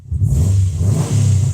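A car engine fitted with a lightweight crankshaft damper revs quickly up and down in short bursts, loud and close with a deep rumbling tone and no talking.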